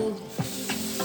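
Rice sizzling in a hot pot while being stirred for Nigerian jollof rice, a steady close frying hiss with short scraping stir strokes, no talk.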